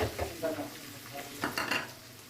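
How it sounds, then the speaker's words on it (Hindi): Chopped onions hit a hot pan for a lobia masala and start frying, giving a soft, close sizzle with a few scraping stirs and light clinks of utensil against the pan, fairly quiet and with no talk. "ये प्याज डाल देंगे"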